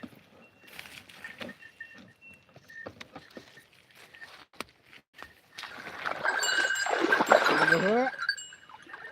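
Water splashes over a cow being washed in a field in the rain. Scattered light taps and drips give way to a louder, churning burst of sloshing water near the end, with some tonal calls mixed in.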